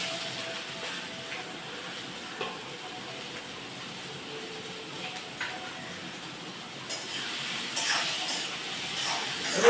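Chopped carrots with curry leaves sizzle in a hot pan, a steady soft hiss that grows slightly louder toward the end, with no talking.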